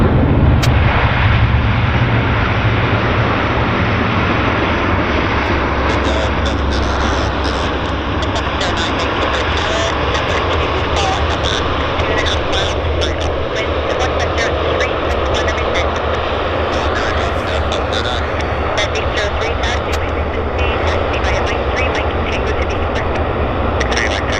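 An airliner touches down at Vancouver airport, its engine roar a loud, steady broadband rush that fills the whole stretch, with air traffic control radio chatter faint underneath.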